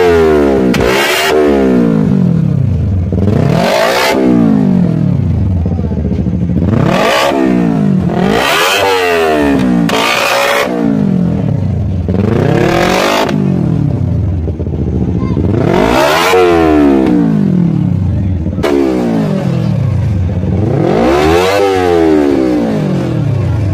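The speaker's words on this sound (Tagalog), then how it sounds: "ipaparinig ko po sa inyo ang tunog ng kanyang exhaust kung gaano nga po kabalki at kalakas ang kanyang tunog." Loud exhaust of a 250cc motorcycle revved repeatedly up and down, about nine rising-and-falling blips with rapid burbling crackle between, close and dominant, no talk over it.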